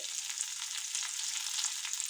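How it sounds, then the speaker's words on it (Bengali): Coriander stems drop into hot oil with tempering spices for a spicy pabda fish curry, giving a bright, continuous close-up sizzle that holds steady throughout with no voices. "সেই ডাঁটাগুলো দিয়ে দিলাম"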